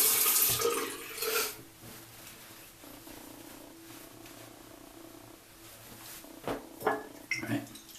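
Tap water runs steadily into a sink as a razor and face are rinsed after shaving, with splashes and clatter near the start and end and a quieter continuous flow between.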